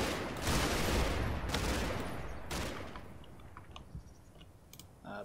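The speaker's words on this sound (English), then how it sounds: "A bit of Sten fire coming in from over here" In the Combat Mission: Battle for Normandy war game, Sten submachine gun fire crackles in a dense rattling burst at the start, then thins to scattered, fainter distant pops and clicks.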